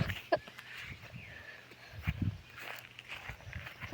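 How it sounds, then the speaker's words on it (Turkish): Footsteps, with scattered soft thuds and scuffs, sound close by in a quiet mysterious place, irregular and faint against a low background, with no talking. "Oy bile ayak sesleri."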